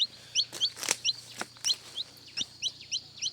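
A chicken clucks in a quick series of sharp, close calls, with a few louder knocks or thumps mixed in over a faint low hum.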